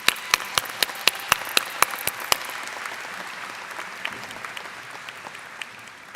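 Applause from a graduation ceremony audience: a few sharp, evenly spaced claps ring out near the start over a steady wash of distant crowd clapping that gradually fades.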